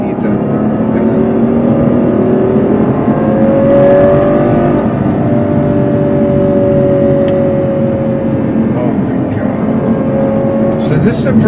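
A Ferrari GTC4 Lusso cruises along a road at highway speed, its engine holding a steady droning note beneath constant road and wind noise, with someone talking over it.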